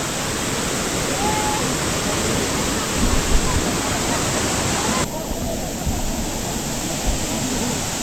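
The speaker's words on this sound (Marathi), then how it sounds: "तुम्ही त्यांना पाहू शकता पाण्याचा फ्लो भरपूर आहे इथं" Strong, steady rush of a stream flowing hard through a mountain pass on the Panhala to Pawankhind trek, a loud, unbroken wash of water that dips slightly partway through.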